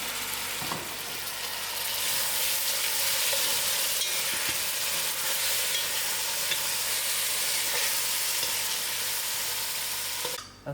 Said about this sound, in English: put in my tomatoes and let all these items fry together